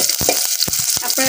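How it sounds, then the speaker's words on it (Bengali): Chopped onions frying in hot oil for a bottle gourd and prawn dish give off a loud, close, continuous sizzle, broken by a few quick stirring knocks. "তেলটা গরম হয়ে গেছে, আমি এখন পেঁয়াজ কুচি দিয়ে দিচ্ছি।"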